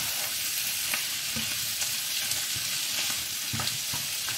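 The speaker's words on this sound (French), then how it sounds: "Donc là on mélange bien." Octopus fricassée stirred in a frying pan, a constant sizzle with repeated scraping strokes of the spoon at an irregular rhythm, close and fairly loud, no voices.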